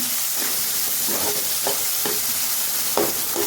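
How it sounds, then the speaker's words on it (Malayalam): Onions sautéing with a pinch of salt in a pan over a medium flame for Yippee egg noodles: a constant close sizzle broken by several scraping stirs. "എന്നിട്ട് സവോള വേവാനായിട്ട് ഇച്ചിരി ഉപ്പിട്ട് 2 മിനിറ്റ് ആയിട്ടുണ്ട്"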